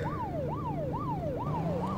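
An ambulance siren in a police car chase cop simulator game wails in steady rising and falling sweeps, about five cycles in quick succession, over a low engine drone with no talk.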